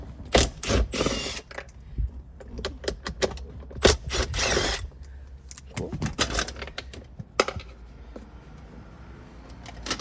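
Ratcheting clicks from a wrench loosening two 10 mm bolts on the center console of a third-generation Toyota 4Runner, coming in close, loud bursts with pauses between turns and a few handling knocks.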